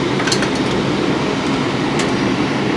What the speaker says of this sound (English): got the blower working